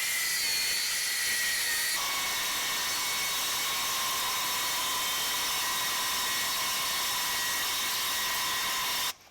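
A circular saw cuts through a wooden board with a loud, steady, close-up whine that holds for about nine seconds, then stops abruptly at the end of the cut.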